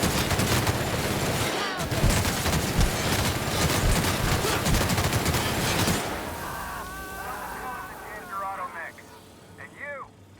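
Dense, loud gunfire in the video game The Outer Worlds rattles for about six seconds with a low rumble beneath, then gives way to voices talking over a quieter background.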